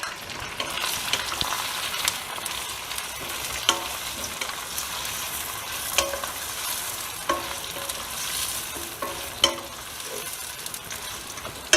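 Raw mango pieces, green chillies and ajwain fry in hot oil for a mango chilli thokku, giving a constant crackling sizzle punctuated by occasional clinks and scrapes of a ladle, with no speech.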